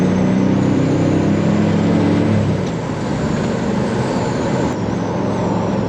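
A Chevrolet Corvair Corsa flat-six with secondary carburetors pulls hard under acceleration, a loud steady engine drone with rising harmonics early that settles into a broad roar, close and continuous with no talk.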